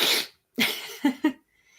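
A sharp sniff-like burst followed by two short, hoarse coughs, close and fairly loud, with brief pauses between them.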